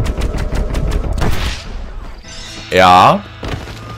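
Several sharp gunshots in a Red Dead Redemption duel, loud reports in the first second and a half followed by quieter game sounds, with a voice briefly speaking.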